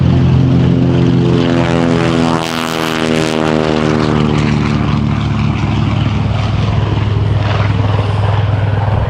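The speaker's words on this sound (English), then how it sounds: "let's listen to the Avenger take off." A loud TBM-3E Avenger single-engine propeller aircraft engine roars continuously during takeoff, its throbbing drone holding steady and close throughout, with no voices.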